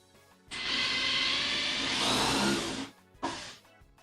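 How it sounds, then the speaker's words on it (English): Power drill boring a hole for screws while building a CRT stand, a loud, steady whirring burst of about two and a half seconds, then a brief second burst shortly after, heard close with no talk. "I'm going to drill a hole. And then I'm going to put screws in."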